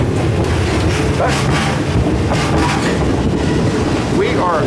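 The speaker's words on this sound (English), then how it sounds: "we are outside on the train here in Alaska." A train rolls through cold Alaska, heard from outside on an open platform between cars: loud continuous rumble and rhythmic clatter of wheels on rails, with wind buffeting the microphone and faint squeals.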